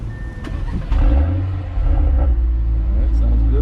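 A 2024 Audi RS3 five-cylinder engine cranks and fires into a loud, deep idle that swells and holds steady close by.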